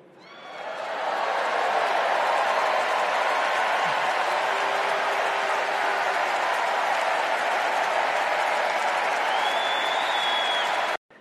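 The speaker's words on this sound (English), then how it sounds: "That's a lot of cheering and excitement" A large political rally crowd cheers and applauds loudly and steadily for about ten seconds, a dense wash of clapping and shouting that then cuts off abruptly.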